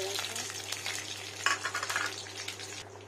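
Crushed peanuts sizzling in hot oil in a home kitchen, a bright crackling fry with stirring clinks, swelling midway then settling, alone without talk over a low steady hum.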